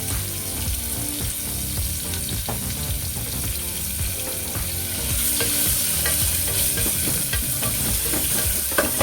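One onion frying in a pan for an avarekaalu (hyacinth bean) palya, with a steady dense sizzle and continual stirring scrapes throughout, close and fairly loud, no talking.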